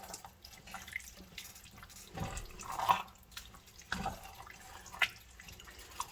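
Hands being washed under a running kitchen tap, with splashing, gurgling water and intermittent bursts of splatter and drips at close range.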